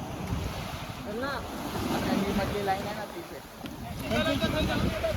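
Sea waves wash in at the Devbag confluence near Malvan, where the Karli river meets the sea. The surf is a steady roar mixed with gusty wind buffeting the microphone, and people talk over it throughout.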